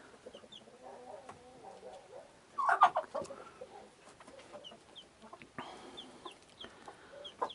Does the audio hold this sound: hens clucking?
yes